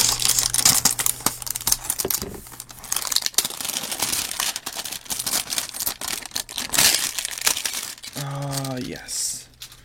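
A trading card booster box is cut open at close range, giving crisp scattered scraping, crinkling and snipping of cardboard and plastic wrap, then a short voiced sound near the end.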